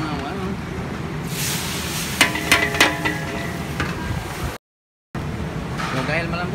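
Ginger sautéing in a hot pan for dinuguan, a steady sizzle with a burst of scraping and stirring clatter midway, then a brief dropout before the frying hiss resumes.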